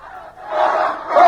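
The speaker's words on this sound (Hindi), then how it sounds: "जितनी ज्यादा संख्या में लोग इकट्ठे हो रहे हैं और नारेबाजी कर रहे हैं" A large crowd in Bangladesh shouts slogans in unison, a loud, swelling mass of voices rising over about a second.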